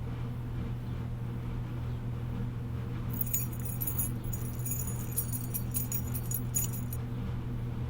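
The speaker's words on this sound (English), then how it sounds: "Shake the keys, mods. Shake the keys." Keys shaken in a hand on a livestream, a bright metallic jangle that starts partway through and rattles on for several seconds over a steady low hum.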